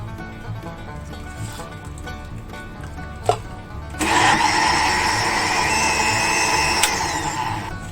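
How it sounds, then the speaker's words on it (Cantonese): A blender starts up abruptly after a quiet stretch and runs loud and steady with a high whirring motor, blending cauliflower soup, after a brief clatter just before. "跟住我哋熄火，然後開始嚟 blend 佢。"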